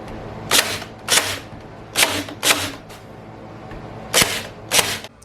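A small nail gun fires into trim molding, six sharp pneumatic snaps spaced in pairs and singles, close and loud over a quiet background.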